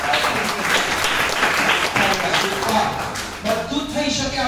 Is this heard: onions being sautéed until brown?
no